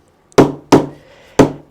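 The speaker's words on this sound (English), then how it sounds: "a nice little handy hammer" Small handy hammer delivering four sharp, close knocks at uneven intervals, each a hard woody crack with a quick decay, no talk.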